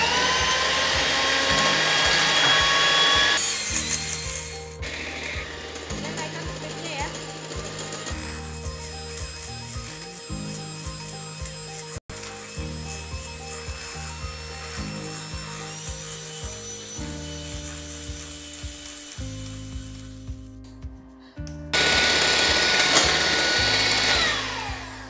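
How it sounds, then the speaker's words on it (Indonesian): An electric mixer beats eggs with granulated sugar for a banana sponge cake, a steady close whirring motor whose pitch shifts in steps as the beaters move, louder at the start and end. "sekarang kita mixer telurnya bareng dengan gula pasir"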